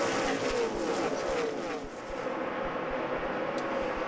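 NASCAR trucks race at Lowe's Motor Speedway, a loud engine roar with a pass-by whose pitch sweeps down, then a sustained drone of the field under a faint commentary voice.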